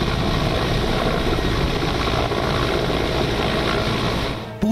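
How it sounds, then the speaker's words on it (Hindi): Military helicopter flying during an Indian Air Force and Army commando landing exercise, a loud, steady rotor and engine roar filling the scene throughout without let-up. "हेलीकॉप्टर से कमांडो की लैंडिंग।"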